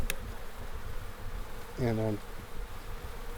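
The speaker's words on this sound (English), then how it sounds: "a couple bees get out" A honeybee buzzes close by for a short moment during a hive installation on a farm, a brief, clear droning hum set against a low background hiss, with a voice heard faintly.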